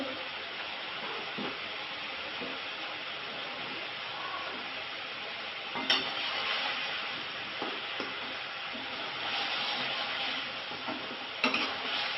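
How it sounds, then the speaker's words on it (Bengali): Potatoes and pointed gourd being sautéed in a pan for a Bengali rui fish dalna, a steady sizzle with repeated spatula scrapes and two sharp metallic clinks, with no one talking. "আর পটল ভালো করে রেখেছিলাম সেই দিলাম এখন ভালো করে কষিয়ে নেবো"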